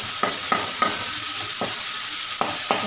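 Vegetables tossed in hot oil with chilli and garlic sizzle steadily in a pan, broken by several short scraping strokes of a spatula spread across the moment, close and fairly loud.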